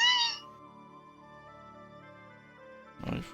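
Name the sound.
domestic cat meowing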